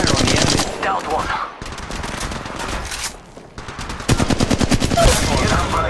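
Rapid automatic gunfire in an Apex Legends Mobile battle royale fight, loud close bursts of rattling shots with short pauses between them and a dense final volley.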